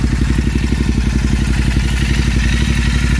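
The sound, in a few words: Royal Enfield Continental GT 650 motorcycle with S&S exhaust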